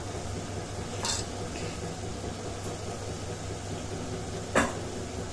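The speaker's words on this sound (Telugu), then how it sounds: "కీమా ఇప్పుడు బాగా వేగింది" Mutton keema fries in a pan with a low, continuous sizzle, and two sharp stirring scrapes stand out against it.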